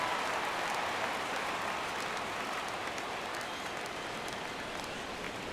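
A baseball stadium crowd in MLB The Show 17 rises for a full 3-2 count, a broad, steady roar of cheering and applause that holds at an even level, moderately loud and spread wide.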